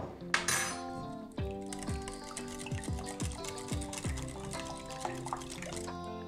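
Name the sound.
mixing cheese, cold cuts and pepper in a bowl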